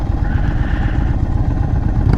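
A 2022 Indian Chief Dark Horse V-twin motorcycle runs while being ridden, with a loud, close, continuous low rumbling throb and wind buffeting throughout.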